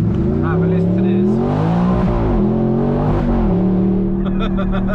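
Straight-piped Audi R8 accelerating hard from inside the cabin: a loud, raw engine roar climbing through the revs, a brief dip at a gear change, then rising again, with a voice talking over it.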